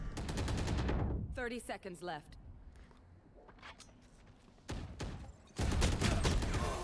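Gunfire in the game Valorant comes in quick clusters of loud shots at the start and near the end, with a quieter stretch in between where a voice speaks.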